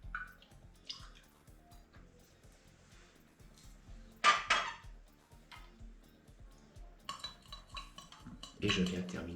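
Rye whisky old fashioned being stirred in a glass: light clinks and taps of a spoon against glass and ice in an irregular rhythm, quiet and close, with a few louder knocks and a short rattle near the end.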